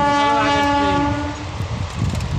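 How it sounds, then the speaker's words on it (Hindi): Train passing close by, opening with a loud sustained horn chord that fades into heavy rolling rumble and rattling wheels on the track. "ट्रेन पार हो गए"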